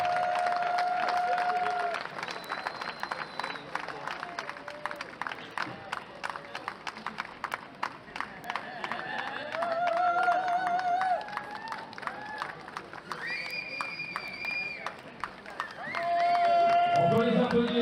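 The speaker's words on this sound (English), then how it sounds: "On peut les applaudir s'il vous plaît." Audience at a paraclimbing World Cup final in Villars applauds and cheers the finalists, a steady crowd clapping bed running throughout under intermittent voices, with a few whistles and louder bursts near the end.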